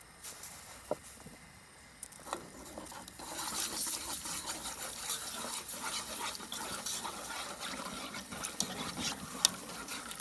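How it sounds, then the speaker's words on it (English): Milk pours into sausage gravy in a pan at an outdoor backcountry camp cooking setup, a steady close liquid splashing and pattering that builds after a quiet start and runs on with small clinks. "let's start adding our milk"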